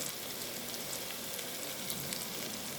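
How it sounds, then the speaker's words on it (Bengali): Constant hissing sizzle of onions and potatoes frying in a pan, steady and fairly close, with no talking. "আমার এখানে পেঁয়াজ আর আলু সব দিয়েছি, সব ভাজা ভাজা হয়ে গেছে"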